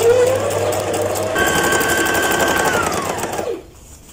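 A Brother GS2700 sewing machine stitches steadily at close range, a fast rhythmic whir that changes pitch partway through and then stops abruptly near the end.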